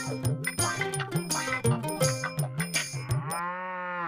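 Cattle in a cowshed moo loudly and repeatedly, a run of close, rhythmic lowing calls ending in one long drawn-out moo.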